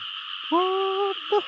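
A frog calls during a frog hunt: one drawn-out, tonal croak of about half a second, then a brief second call, fairly close and clear over a steady, high-pitched background chorus.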